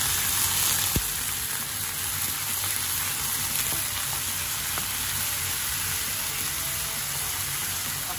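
Ground pork sautés in a pan for bitter melon, a steady close sizzle and crackle with a few soft clinks of the utensil and no talking.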